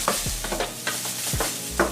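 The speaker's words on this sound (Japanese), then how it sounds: "とにかくね、焦げないように気をつけて回してください" Butterbur miso (fuki miso) being stirred in a pan over medium-low heat, a series of scraping strokes of a utensil against the pan with a soft sizzle beneath, close and distinct.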